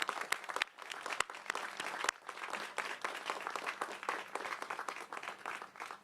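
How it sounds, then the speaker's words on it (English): A crowd at a Connecticut governor's COVID-19 booster press event claps in sustained applause, dense and even, with a few sharp, louder claps standing out near the start. "Please join me in a round of applause to thank Governor Lamont"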